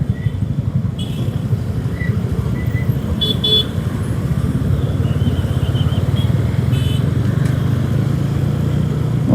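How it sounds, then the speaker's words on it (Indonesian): Morning traffic jam with taxis, heard from a TVS Ronin 225 motorcycle: a steady engine and road rumble runs throughout, with several short car-horn toots sounding nearby, and no talking. "taksi-taksi biang kerok yang bikin macet pagi-pagi"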